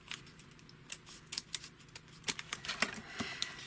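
Scissors cut through cardstock for a quadruple pocket craft, giving a quiet run of short, crisp snips close by with no speech.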